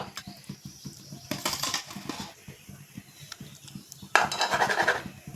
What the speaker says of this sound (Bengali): সাবুদানাটা দিয়ে এইভাবে হাতা দিয়ে একটু নাড়াচাড়া করতে হবে